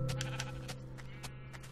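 Sheep in Minecraft bleat in several short repeated calls over a steady low game hum, fairly close and moderately loud.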